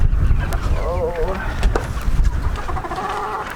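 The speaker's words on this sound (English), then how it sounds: "are the Trinity Market pullets for the pullet sales coming over in about a week" Young pullet hens on a farm give soft, wavering clucks and trills, close by and mixed with low rumbling background noise and a faint voice.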